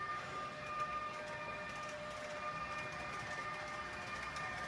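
Two Roco Railjet model locomotives fitted with cameras run steadily, making a faint, continuous electric whine and hum with no breaks.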